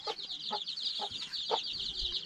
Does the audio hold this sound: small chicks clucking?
yes